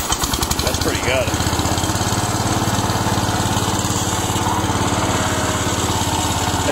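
John Deere 120 lawn tractor engine running close by, a loud, steady, rapid thumping putter with a fast pulse throughout, with a person briefly speaking early on.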